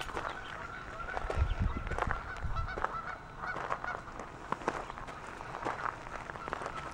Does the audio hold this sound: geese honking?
yes